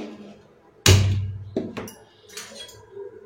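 Soaked rice and lentils tipped into a pan, a sharp clattering pour with a low thud, followed by a couple of lighter clinks and rattles of the pan, close by and with no talk.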